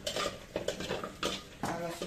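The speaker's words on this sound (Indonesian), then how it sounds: "Ini pakai aluminium nih, cepat gosong." A utensil scrapes and stirs ingredients dry-roasting in an aluminium pan for asem-asem bandeng, a continuous close metallic rasping with repeated sharper scrapes, no voices over it.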